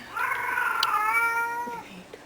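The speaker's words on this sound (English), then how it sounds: "What you hear is Alex's cat." A cat meows in one long, drawn-out cry that rises and then fades, close by and clear against a quiet background.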